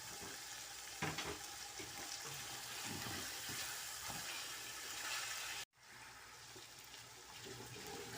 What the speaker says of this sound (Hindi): इसको अब मैं अच्छी तरह ज़रा भून लूँ